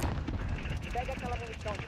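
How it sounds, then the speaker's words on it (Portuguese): Bursts of gunfire in Call of Duty: Modern Warfare crackle in rapid succession, moderately loud, while a person talks over them. "na direita tem outro cara atirando"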